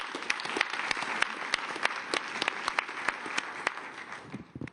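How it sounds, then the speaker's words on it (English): An audience at a Davos climate and nature panel applauds, with distinct individual hand claps standing out in a moderate, steady round of clapping that thins near the end. "in giving them a big round of applause"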